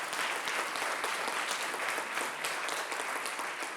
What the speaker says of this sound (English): Let us give a round of applause for the three wonderful authors that we are honoring.